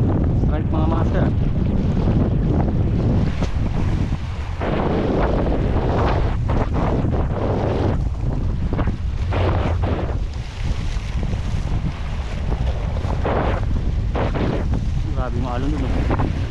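Rough sea waves surge against rocks at a fishing spot, a loud continuous rushing with heavy wind buffeting, and voices partly beneath it.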